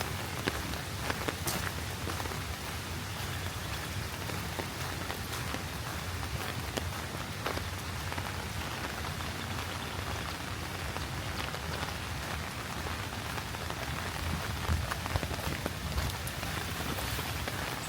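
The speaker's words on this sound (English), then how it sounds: "It's kind of a soothing rain sound" Steady soft rain patters on surfaces around a creek in the woods, an even continuous hiss with no talking over it.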